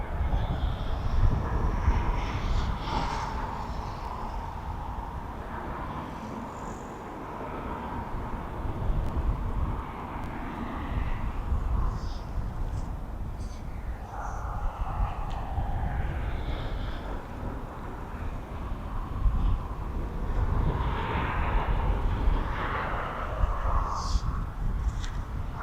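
An aircraft approaching East Midlands Airport, a distant, faint engine drone over constant wind and outdoor rumble, swelling and fading slightly with occasional small background noises throughout.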